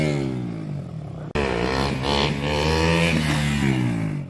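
A motorcycle engine revs hard during a bike stunt, loud and close, its pitch climbing and holding after a brief cut near the start.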